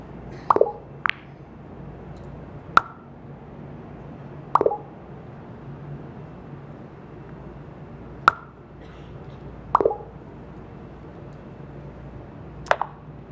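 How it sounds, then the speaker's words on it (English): Short bright plopping pops of a messaging app sticker sound effect, about six of them spaced a couple of seconds apart, over a low steady background hum. "The sticker sound is one of my favorites."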